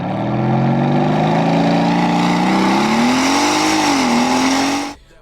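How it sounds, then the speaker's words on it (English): A 2025 Porsche Cayenne GTS V8 revving, a loud, close, sustained engine roar that climbs in pitch, dips briefly, rises again, then cuts off sharply at the end. "I wanted to hear that V8 just one more time before I had to give it back"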